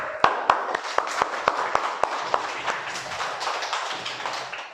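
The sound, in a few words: class applause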